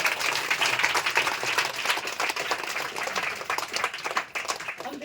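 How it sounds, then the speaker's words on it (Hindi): A church congregation at a Hindi-language worship service breaks into loud, sustained applause. Dense clapping fills the room steadily for several seconds, close and energetic, with no voices over it. "प्रभु यीशु की जोरदार ताली बजाने करवा लो।"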